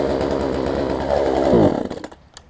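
A Husqvarna 136 chainsaw fitted with an aftermarket HIPA carburetor kit runs close up with a loud, buzzing two-stroke note, briefly rises, then sputters and dies, leaving near silence.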